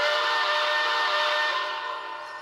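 An MTH HO-scale cab forward AC-6 steam locomotive model with Proto 3.0 sound sounds its whistle, a steady, loud, high multi-tone blast held for about two seconds before fading slightly, with no talking.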